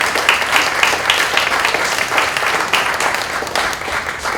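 Loud, close applause breaks out for Mike Mackesy at a cabaret festival Sunday brunch show, many hands clapping in a dense, even burst that carries on steadily.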